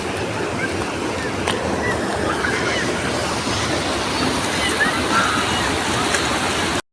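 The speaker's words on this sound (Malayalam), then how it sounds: "വെള്ളച്ചാട്ടം ചാടുന്ന" A waterfall roars close by, a loud, dense, unbroken rush of falling water that holds steady throughout before cutting off abruptly at the end.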